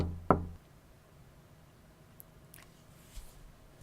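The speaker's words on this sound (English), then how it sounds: "Knocking gets no response." A single firm knock lands on an apartment door in a video game near the start, followed by near silence with a few faint soft thuds.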